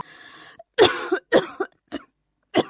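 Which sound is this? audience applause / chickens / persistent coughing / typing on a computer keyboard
persistent coughing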